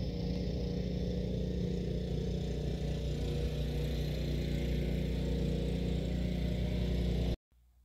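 Snow blower engine running steadily while a path is cleared along the front of a house, a loud continuous droning roar that cuts off abruptly at the end.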